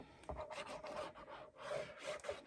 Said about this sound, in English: Just rub your glue and make sure you spread it out nicely.